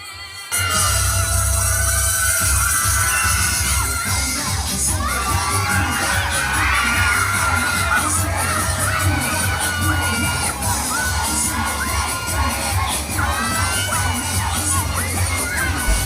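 Supporters scream and cheer loudly for a contestant at a barangay mothers' beauty pageant, with a dense, continuous wall of shrill shouting over a pounding low music beat, after a sudden start.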